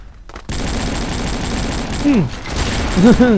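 Rapid bursts of video game gunfire crackle under excited voices, with sliding electronic tones near the end.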